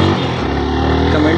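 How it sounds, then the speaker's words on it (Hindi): Motorcycle riding along a road with a passenger on the back, its steady engine drone continuous and fairly loud throughout, with a voice talking over it. "तो आ गए रोड पे, चलिए चलते हैं बाइक के साथ रोड पे, निकलते हैं।"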